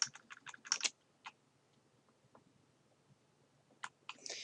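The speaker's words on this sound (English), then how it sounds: "I'm just pressing my delete key to delete out this text from the other article." Delete key tapped on a computer keyboard: a quick burst of soft plastic clicks, then scattered single presses, and another short cluster at the end, all quiet and close.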